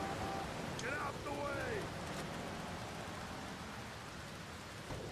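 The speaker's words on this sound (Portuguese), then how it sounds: "Nossa, tá chovendo. Os pingos são gigantes, mano." Steady rain falling in the video game Grand Theft Auto: Vice City, a continuous hiss of drops heard throughout with a few brief tonal game effects and no talking over it.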